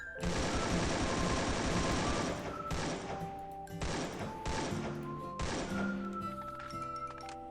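Rapid bursts of gunfire from a gun in Free Fire, aimed at an ice wall, come in several loud clusters separated by brief pauses, with thuds and clatter and no talking.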